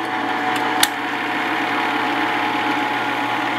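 An old home movie projector's motor runs with a steady, even mechanical hum, loud and close, with one short click near the start.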